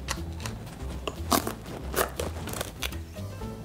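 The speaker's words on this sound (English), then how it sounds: "just cut the spaghetti squash in half" A knife cuts a whole spaghetti squash in half, giving a series of close, crunchy cracks and splitting crunches scattered irregularly, with several louder snaps as the blade forces through the tough rind.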